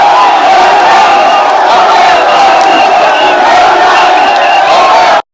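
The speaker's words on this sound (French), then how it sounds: "depuis l'aéroport, une foule vertigineuse, difficile à dénombrer même, est visible" A vast, dense crowd roars and cheers at an airport, shouting and whooping in a steady, loud wall of voices that holds unbroken for several seconds, then cuts off abruptly.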